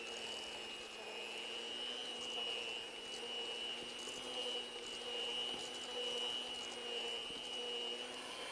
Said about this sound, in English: there's 2 ingredients, butter and sugar. And you want to cream it really well.